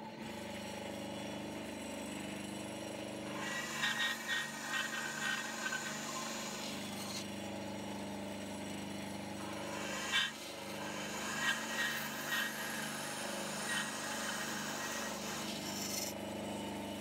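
A bandsaw cuts through wood while shaping a wooden F1 car model, giving a steady rasping buzz that rises into louder rough cutting bursts, near and mostly alone with little talk.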